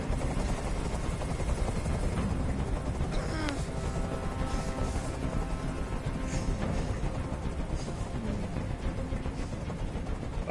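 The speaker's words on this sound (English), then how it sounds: "Tell that helicopter to get out of here." A helicopter hovers in the video game Detroit: Become Human, a constant rotor drone filling the background beneath tense in-game dialogue and scattered effects.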